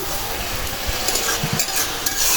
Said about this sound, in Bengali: মশলা তেলে ভাজা ভাজা করে নিলাম